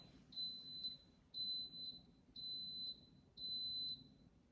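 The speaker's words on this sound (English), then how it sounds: "my life's on hold until this Instapot beeps" An Instant Pot pressure cooker beeps four times in a regular rhythm with high, clear electronic tones, loud against a quiet kitchen background.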